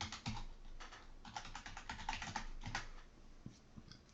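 Keys clatter on a computer keyboard as a command is typed into CAD software, a close, irregular run of crisp clicks lasting about four seconds, with no talking.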